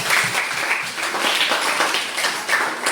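A short burst of dense clapping from a group of people, steady and fairly loud throughout.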